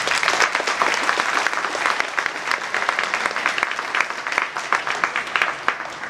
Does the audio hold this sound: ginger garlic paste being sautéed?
no